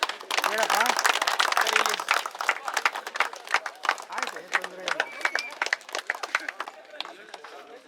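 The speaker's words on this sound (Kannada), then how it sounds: "ಸರ್ಕಲ್ನ ಜನಪ್ರಿಯ ಶಾಸಕರು ಆದಂತಹ ಶ್ರೀಯುತ ಶಿವಣ್ಣನವರು ಆಗಮಿಸಿದರೆ ದಯವಿಟ್ಟು ಚಪ್ಪಾಳೆ" An outdoor crowd at a village cricket league opening breaks into dense applause and clapping to welcome a local legislator, loud at first and thinning into scattered claps, with voices mixed in.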